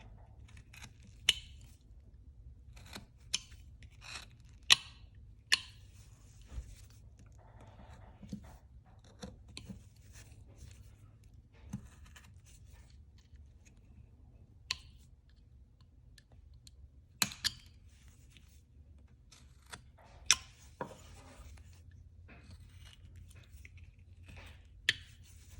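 A carving knife cuts into wood on a caricature bear, making sparse, sharp close clicks and scrapes at irregular intervals over a quiet background, with no talk.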